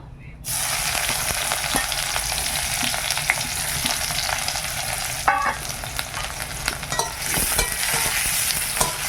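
Onions drop into hot oil and set off a sudden loud sizzle that settles into steady frying, punctuated by a few sharper pops and stirring clinks, with no voices.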